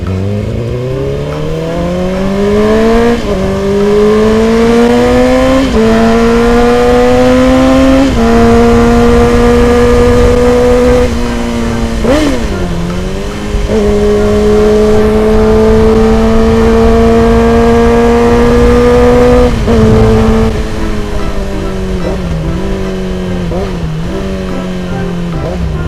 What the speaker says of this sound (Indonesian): Kalian tahu kan kalau suara 4 silinder ini sangat indah sekali ya.